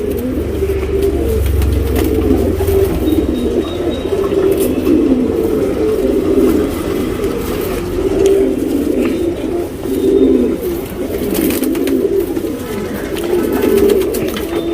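A male Dubas pigeon coos repeatedly in low, rolling, throaty phrases close up, with a continuous background of other pigeons cooing and faint outdoor noise.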